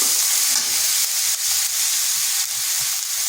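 Onion paste fries in a hot pan, giving off a loud, continuous hiss and sizzle with faint soft stirring knocks scattered throughout.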